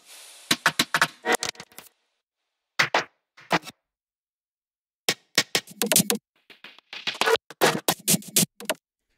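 Glitch-processed drum loop percussion for a remix, heard as stuttering bursts of chopped, clicky hits in clustered fragments separated by abrupt silences, with no voices.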